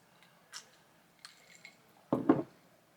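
Ice cubes clink faintly against a glass during a drink in a quiet room, a few light taps followed by a louder pair of gulps or swallows near the end.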